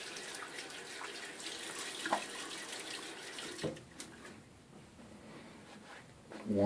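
Bathroom tap running into a sink while someone wets their face during a shave, a soft continuous hiss of flowing water with a few faint splashes and knocks, fading quieter toward the end.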